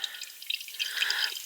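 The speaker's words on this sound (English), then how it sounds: "Water comes to this bucket" Water trickles and drips into a collection bucket in a home without running water, a brief, close, light splashing patter.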